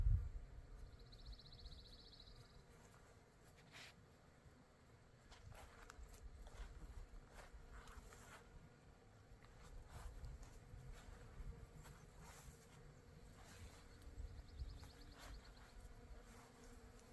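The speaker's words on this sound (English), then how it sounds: "This honeysuckle is literally humming with happy bees." A soft, steady insect hum drones throughout, many bees buzzing close around honeysuckle flowers in a garden, with faint scattered rustles and no voices.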